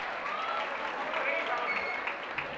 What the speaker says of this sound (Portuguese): Muitas palmas para o Miguel